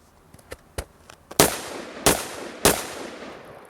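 An AR-15 rifle fires three loud, sharp rounds at a shooting range, each crack spaced roughly half a second apart, preceded by a few fainter distant pops.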